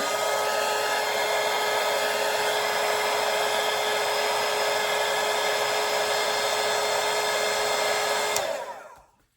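A hair dryer blows steadily and loudly, drying a watercolour landscape painting, its constant whirring rush running alone for several seconds before it shuts off and winds down.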